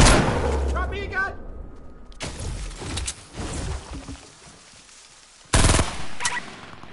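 Compact SMG fire in Fortnite crackles in rapid bursts, loud and close, with a sharp final volley near the end. A player talks over the shooting.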